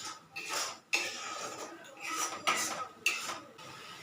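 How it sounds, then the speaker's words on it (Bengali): Pointed gourd curry is stir-fried in a pan with a soft, steady sizzle, broken by a few clinks and scrapes of a utensil against the pan. "এবার এটাকে ভালো করে কষবো বা কষতে দেবো"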